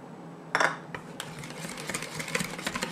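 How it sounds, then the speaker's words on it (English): Sweetened condensed milk and an egg being mixed in a bowl, a sharp utensil clink followed by a run of quick scraping, tapping strokes against the bowl, close and fairly loud with no talk. "we're just going to mix that up and combine it, just like so"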